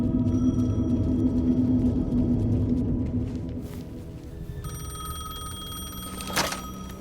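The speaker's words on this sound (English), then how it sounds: "The payphone was ringing." A payphone rings in the Alan Wake 2 video game, a repeating electronic bell tone over a low, rumbling ambient drone, with a sharp burst near the end.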